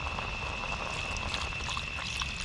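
Water poured into a cooking pot, a continuous splashing stream with a faint steady hiss, moderately quiet and unbroken for the whole stretch.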